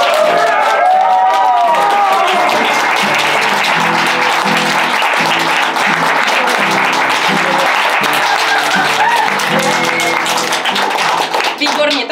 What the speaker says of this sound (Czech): A teď přijde váš potlesk.